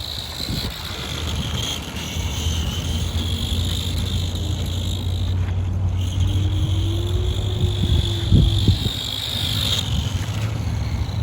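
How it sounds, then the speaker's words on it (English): A 1991 Tamiya Ferrari F40 RC car with a Sport 2 motor whines steadily at a distance outdoors, its pitch rising and falling over wind rumble on the microphone. "Sport 2 motor doing its work."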